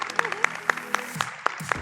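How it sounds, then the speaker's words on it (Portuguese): Brief applause at a health innovation talk for an Oscar-winning film, with sharp, evenly spaced claps standing out clearly above a thin scattering of other hands. "uma salva de palmas para o filme."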